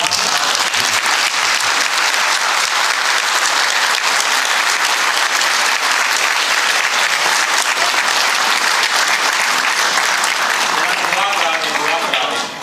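A large audience at a religious talk by Maulana Tariq Jameel claps loudly and continuously, a thick, sustained roar of applause that holds steady throughout before tapering off at the very end.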